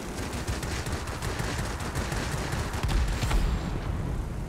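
Sustained rear-gunner machine-gun fire in World of Warplanes, a dense continuous rattle of rapid shots running through the whole stretch at steady loudness, swelling slightly near the end, with no talk over it.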